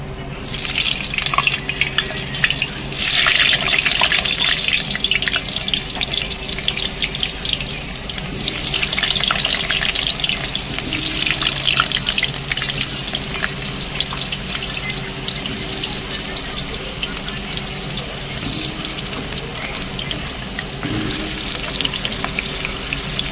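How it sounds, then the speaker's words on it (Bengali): Potatoes dropped into well-heated oil sizzle loudly and continuously, a rushing, water-like hiss that swells and eases over a long stretch, close up, with no voices. "এবার আলুটা তেলের মধ্যে দিয়ে দেবো"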